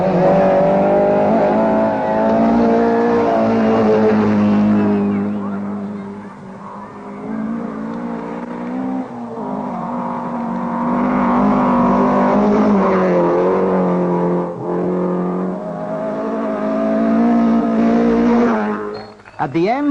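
A rally car driven fast on the 1982 Marlboro Safari Rally in Kenya, its loud engine droning and rising through gear changes, swelling and dipping as it pushes on, with a sharp burst near the end.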